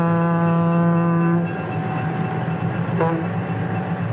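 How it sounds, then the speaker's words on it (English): A huge steam-era locomotive pulls a passenger train away, the engine opening its throttle and moving slowly at first: steady harmonic whistle-like tones and a deep rumbling drone that shifts as the train gets underway, with no voices. "The huge locomotive sets the train in motion, slowly at first"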